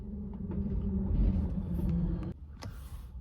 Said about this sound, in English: Sorry, the bus was loud.